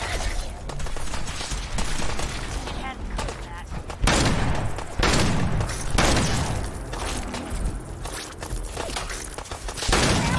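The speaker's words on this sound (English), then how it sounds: "What exactly are you all shooting at?" Steady gunfire in Fallout 4 survival mode, dense overlapping shots and booms continuing throughout, near and loud, with someone talking over it.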